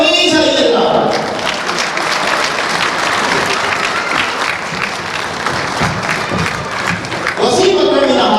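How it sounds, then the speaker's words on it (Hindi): Dense, loud audience applause at a community fundraising event runs steadily throughout, with a brief swell near the end. "तालियां मिलनी चाहिए ना।"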